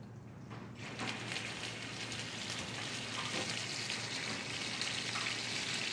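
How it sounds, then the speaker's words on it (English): Beef tenderloin sears in a hot pan, with a dense, even crackling sizzle that starts abruptly and carries on steadily at moderate loudness. "then searing a piece of beef tenderloin"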